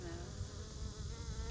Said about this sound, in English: look at all the bees on the Nandina